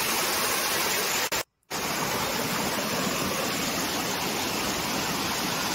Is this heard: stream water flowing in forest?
yes